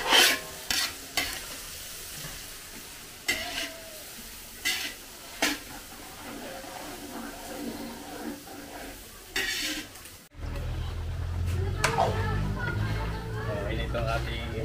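Garlic and onion sizzle in oil and margarine in a pan while being stirred, with scraping utensil strikes at first, then a steady louder frying hiss as the onion goes in; a person talks over it.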